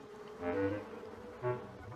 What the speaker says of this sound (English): James's reply was drowned by the sound of buzzing.